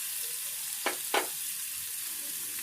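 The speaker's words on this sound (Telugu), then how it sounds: "ఇవి ఇప్పుడు కొంచెం మెత్తబడేదాకా ఈ ముక్కలు వేపుకోవాలి." Amla (Indian gooseberry) pieces fry in a pan with a steady, soft sizzle. Two brief stirring scrapes break through the frying near the middle.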